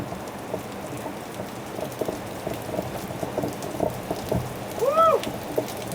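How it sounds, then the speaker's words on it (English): Heavy rain pours down on a summer garden in a steady, dense hiss with scattered louder drops, and a brief rising whistle-like sound near the end. "We got lots of rain, we needed lots of rain."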